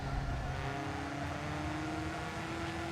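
Bright orange Ford Focus RS racing in Forza Motorsport 7, its engine holding a steady, slightly rising drone with a low rumble underneath, moderately quiet and continuous for three seconds.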